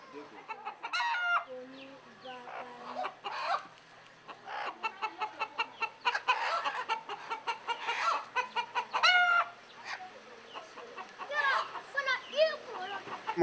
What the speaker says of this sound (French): Je suis entouré par mes poules, par mes poussins. Tous les jours, il y a Cocorico.